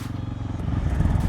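A 2021 KTM 690 SMC R motorcycle being ridden, its engine a loud, close, steady throbbing rumble with wind and road noise mixed in throughout.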